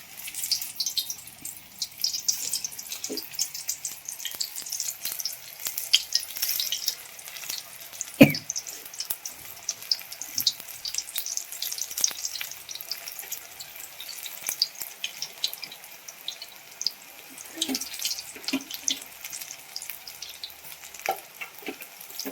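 Spinach bhaji and green chillies fry in hot oil with a continuous crackling sizzle, broken by occasional stirring knocks and clatters.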